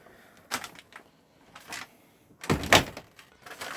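The door of a 2011 Bailey Pegasus 554 caravan opens with a few scattered clicks and knocks, ending in a louder clunk and rattle near the end, close by with no speech.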